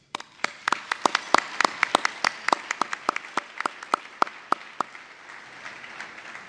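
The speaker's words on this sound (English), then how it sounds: "Let's give them all a round of applause." Scattered applause from a small audience, individual hand claps clearly audible, gradually thinning out toward the end.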